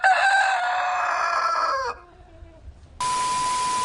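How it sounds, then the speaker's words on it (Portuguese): A rooster crows once, loud and near, in a drawn-out cock-a-doodle-doo. A short pause follows, then a steady electronic tone begins. "O galo cantar?"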